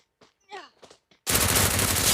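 Automatic gunfire from a Free Fire battle royale match sprays an enemy in a loud, dense continuous burst after a few short spoken words.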